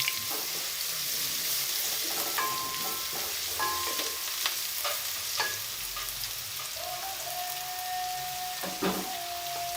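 Garlic frying in ghee in a pan for mutton keema, a steady close sizzle with occasional stirring clinks and scrapes throughout, no talk.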